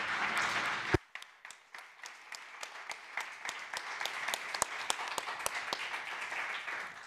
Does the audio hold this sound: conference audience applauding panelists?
yes